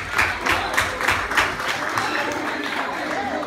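Applause from guests at a quinceañera, a few distinct, rhythmic claps near the start that settle into softer, steady clapping beneath a talking voice.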